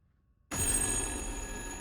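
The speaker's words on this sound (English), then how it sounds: "Phone's ringing." A loud telephone starts ringing abruptly after a brief silence in the horror video game Little Hope, with a bright, sustained electronic ring close by and nothing else heard.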